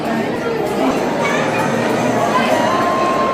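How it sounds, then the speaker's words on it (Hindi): A busy crowd of visitors fills a tribal museum in Nava Raipur, Chhattisgarh, with a steady murmur of overlapping chatter and occasional children's voices throughout. "काफ़ी भीड़ हो गई आज"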